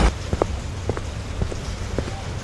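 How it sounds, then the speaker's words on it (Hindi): Heavy rain pours steadily near a broken-down hut, a dense wash of noise with scattered drops landing in brief irregular taps. "बारिश बहुत तेज हो गई थी"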